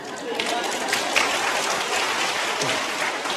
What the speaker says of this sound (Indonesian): Tepuk tangan dulu itu paduan suara itu.